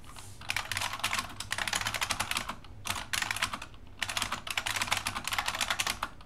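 Loud typing on a computer keyboard, rapid clattering keystrokes in dense bursts with short pauses between them, close and alone without talk.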